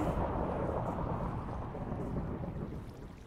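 Thunder rumbles in a video game, a steady, dense low roar with rain-like hiss, continuous and fairly loud throughout with no talking.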